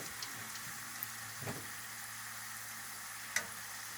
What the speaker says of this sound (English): And they're in there, and they're frying nicely.